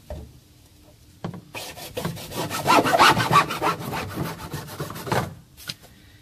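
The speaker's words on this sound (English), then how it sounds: "we're going to take the hacksaw and cut off this nipple" A hacksaw cuts through a pipe nipple on a backyard drain sump basin setup, with steady, loud back-and-forth rasping strokes close up after a brief quiet start, then the sawing stops near the end.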